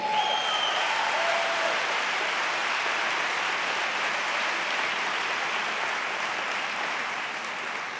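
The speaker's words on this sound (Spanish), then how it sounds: "dale un aplauso al rey" Sustained audience applause for a motivational speaker at a live talk, a dense, even wash of many hands clapping that carries on steadily and eases slightly toward the end.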